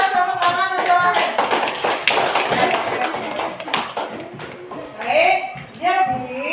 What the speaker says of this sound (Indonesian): tepuk tangan untuk Wahid